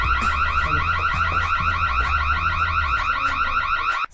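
A house alarm system sounds continuously in a loud, rapidly warbling electronic tone that repeats in fast cycles and cuts off abruptly at the end.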